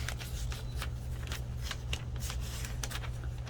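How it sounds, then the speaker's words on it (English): Scissors cutting a picture out of paper for a mixed media art journal, a quick run of crisp snips repeating about every quarter second over a steady low hum, close and fairly quiet. "I'm gonna cut this out."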